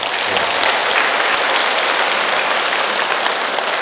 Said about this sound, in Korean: 큰 감사의 박수 부탁드립니다.